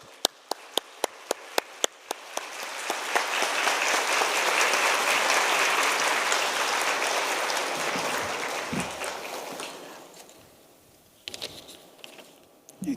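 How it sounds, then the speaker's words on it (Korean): A church congregation at a Wednesday worship service applauds to welcome a pastor: a few sharp individual claps start it, then the clapping swells into loud, dense applause that peaks midway, fades out, and ends in a few scattered claps and thumps. "우리 최재식 목사님 나오실 때 뜨거운 박수로 맞이해 주시기 바랍니다."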